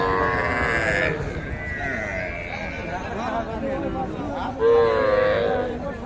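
Cattle and calves at a busy weekly livestock market, with a loud moo or bleat rising near the end over constant crowd chatter and people talking throughout.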